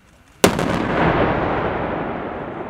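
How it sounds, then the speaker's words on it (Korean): A linear demolition charge detonates at a military minefield-clearing demonstration: one sharp, loud blast followed by a long, rumbling roar that slowly fades over a couple of seconds, with no voices. "선형 장약이 포물선을 그리더니 몇 초 뒤 굉음을 내며 터집니다"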